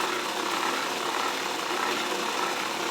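An Arge electric fan with a bad bearing runs with its motor producing a steady, broadband whirring rush that stays constant throughout, fairly close and without any breaks.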